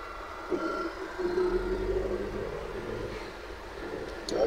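A Hyundai Sonata with a transmission stuck in fourth gear accelerates, its engine holding a steady low drone that swells slightly near the end.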